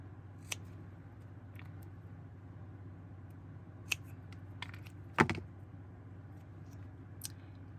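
Scissors cut a paper flower embellishment for a handmade card: a handful of crisp, quiet snips scattered over a soft background, one sharper cut standing out near the end, with no voices.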